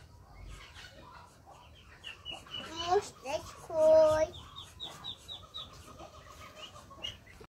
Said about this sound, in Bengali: সব হাঁস মুরগি উঠানে আসছে